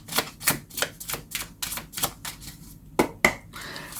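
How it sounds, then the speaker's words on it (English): A deck of tarot cards being shuffled by hand, a run of quick crisp riffling bursts in a steady rhythm, close and clear, ending with a couple of sharper snaps and a faint bright tone. "I'm going to keep shuffling until something flies out."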